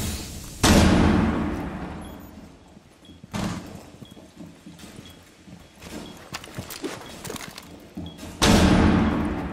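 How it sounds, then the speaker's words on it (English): Flashbang grenades detonating in Rainbow Six Siege, sharp loud bursts that open and close the stretch with a smaller blast in between, separated by quieter thuds and gameplay noise. "Flashbang!"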